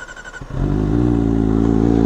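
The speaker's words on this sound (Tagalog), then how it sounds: "Cold start natin dito." A motorcycle engine cranks briefly on a cold start, then fires up and settles into a loud, steady, rumbling idle.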